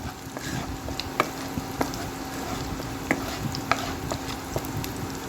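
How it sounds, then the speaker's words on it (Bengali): Whole garam masala spices stirred in hot oil in a pan, with a steady sizzle and frying hiss, punctuated by light clicks of a spoon against the pan, close and moderately loud, no talking. "তারপর গোটা গরম মশলা কিছু আমি এখানে দিয়ে দিলাম। একটু নাড়াচাড়া করছি।"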